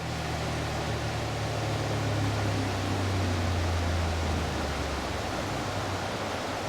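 Water rushes steadily over a weir on the River Wharfe as a broad, constant roar, loud and unbroken from start to finish.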